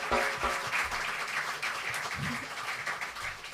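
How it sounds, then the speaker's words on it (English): Audience applause for the pianist at a jazz concert, a dense, moderately distant patter of clapping that carries on steadily throughout. "give him another round of applause"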